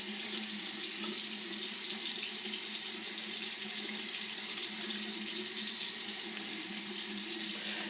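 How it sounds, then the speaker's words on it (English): Tap water runs steadily into a sink as a man washes his face, making a continuous, even splashing rush close by with no pauses. "he's going to wash his face now"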